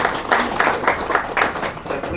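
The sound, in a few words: audience applause for the Premier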